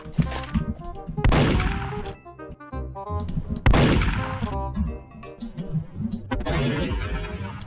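Gunfire in the Roblox video game comes as two loud, sharp blasts a couple of seconds apart, each followed by ringing, rattling game sounds that keep clattering between and after the shots.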